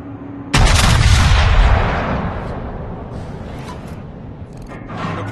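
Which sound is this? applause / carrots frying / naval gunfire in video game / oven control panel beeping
naval gunfire in video game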